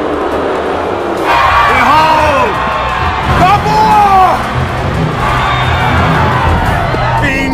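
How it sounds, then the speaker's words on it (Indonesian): A gladiator arena crowd roars and cheers in loud surging waves, with shouts and whoops rising and falling and voices calling out above the din. "sorakan penonton terdengar hanya menyebut nama Crixus"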